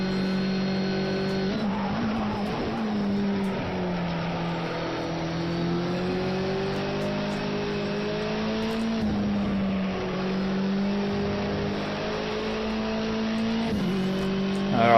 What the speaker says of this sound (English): Alright, car sliding a bit.